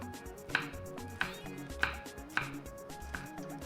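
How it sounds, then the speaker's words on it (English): A knife slices okra finely on a board for ogbono and okra soup, making about five crisp, evenly spaced cuts at a relaxed pace, close and fairly quiet, with no talking. "So for those ones that I'm slicing tiny, I'll just slice them very tiny."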